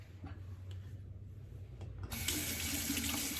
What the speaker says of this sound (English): I like to run the blades under warm water to get any residue from the packaging off.